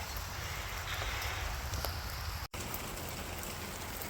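Steady rain falling, a dense even hiss of drops with a brief break partway through, no voices.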